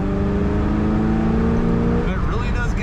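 A 1968 Oldsmobile 442 convertible accelerates with a steady engine drone that rises in pitch and changes tone toward the end, heard close from inside the car.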